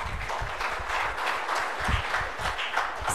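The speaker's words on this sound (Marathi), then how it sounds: "जोरात टाळ्या वाजवूया" A crowd of spectators in a hall gives a burst of steady clapping, a dense wash of many hands at moderate distance, continuing evenly throughout with no voices over it.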